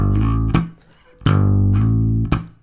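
Slap bass striking a muted A, percussive thumb slaps with a deep thuddy low end, four hits in an uneven rhythm with short held tones between them, close and loud, no voice.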